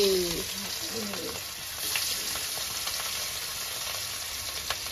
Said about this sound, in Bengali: কড়া ভাজা দেবো না, হালকা ভাজা।